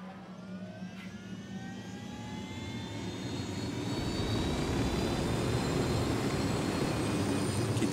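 A helicopter in the video game Ghost Recon Wildlands produces a steady rotor and turbine drone that swells gradually louder and nearer, with a rising whine layered over the low rumble.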